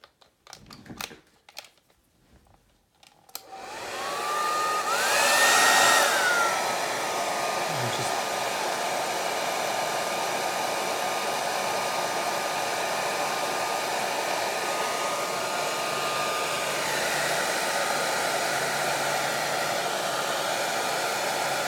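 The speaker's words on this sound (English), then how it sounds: "in order to speed up the drying, I'm going to use a hairdryer" A few soft clicks and taps, then a hair dryer switches on and runs loudly and steadily with a constant whine until the end.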